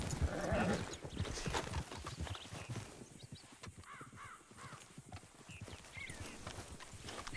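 A tiny horse in a video game clip-clops along in a quick, steady stream of hoofbeats, with sharper bird-like calls cutting in during the second half.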